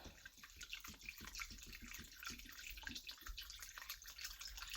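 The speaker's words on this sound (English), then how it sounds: "I'm pouring this water in this chicken" Water poured into a pot of chicken in a home kitchen, a steady splashing pour that runs throughout, moderately close and fairly quiet.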